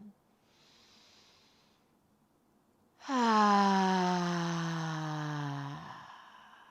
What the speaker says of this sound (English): take a big breath in through your nose. Open mouth, exhale